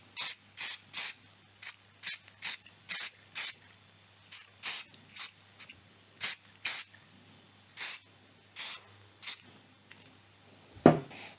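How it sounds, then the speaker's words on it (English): Repeated short bursts of hairspray hissing from an aerosol can onto cereal-box cardboard during a Philco radio repair, about twenty quick close sprays in an uneven rhythm with brief pauses, no talking. "I'll just give it a very light spray with this hairspray."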